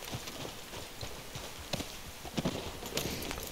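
Quiet, steady background ambience in a video game with irregular horse hoof clops scattered throughout, a few louder knocks standing out near the end.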